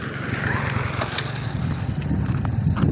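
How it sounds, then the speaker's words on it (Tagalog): A motorcycle passes on a four-lane road, its engine a steady mid-range drone with wind rush that swells louder toward the end as it draws near. "Nay motor ni agi guys."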